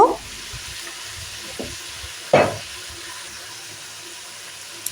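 Chopped beans, cauliflower and potatoes tipped into a pan of fried spices for a dried-fish curry, giving two short splashy bursts a couple of seconds apart over a low steady hiss, with no voices.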